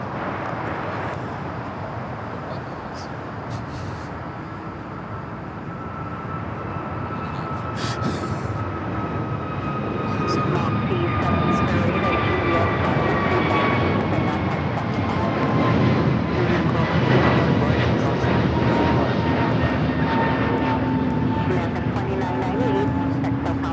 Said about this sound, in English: We don't see too many of these here with KLM, the 777-300ER.